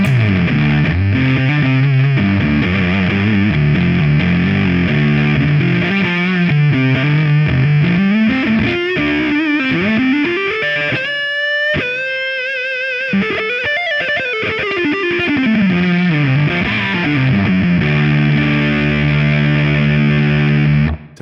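A heavily distorted electric guitar on its neck pickup plays a long, continuous passage with sweeping, warbling slides and sustained notes, loud and close, no voices.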